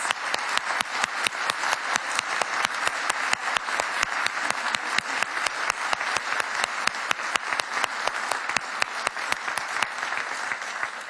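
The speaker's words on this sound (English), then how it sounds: "Let's give them another round of applause." An audience at an innovation convention award ceremony gives sustained applause, a dense, steady wash of many hands clapping, loud and continuous for over ten seconds with no voices above it.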